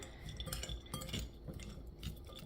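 A utensil stirs and tosses a beet salad with pistachios and feta crumbles in a bowl, giving soft, close scraping and clinking sounds in a steady back-and-forth rhythm with no talking.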